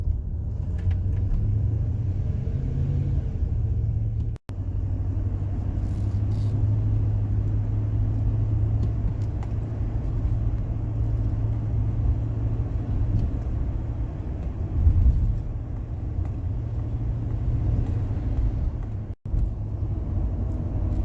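Steady low rumble of car traffic queued on the road into Animal Kingdom on a morning, a continuous close drone of idling and slowly moving vehicles with no talk.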